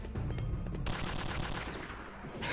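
Rapid bursts of gunfire crackle continuously in a video game, dense overlapping shots with no pause, fairly loud and harsh throughout.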